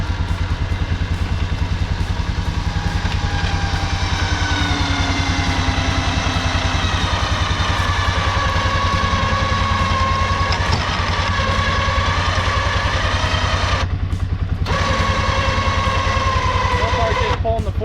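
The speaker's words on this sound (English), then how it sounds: "Let's start the four-wheeler up and see what it does." A four-wheeler engine runs at a steady, close idle with a constant chugging rumble while it pulls a RZR with a winch rope wrapped around a tree, and a brief clatter breaks in near the end.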